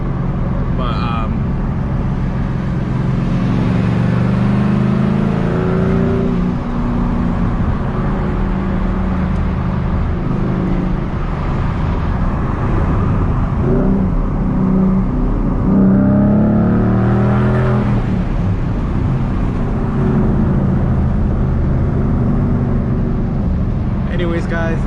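Heavy road traffic rumbles steadily from inside a car, with several vehicles swelling and fading as they pass, and a person talks over the continuous engine and tire noise.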